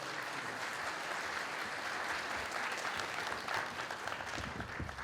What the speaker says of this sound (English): Let's give yourself a very big round of applause again